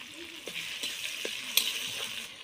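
Ginger-garlic paste, spices and chopped tomato frying in a pan, a steady hiss of sizzling with a few stirring scrapes and one sharper clink, close and even.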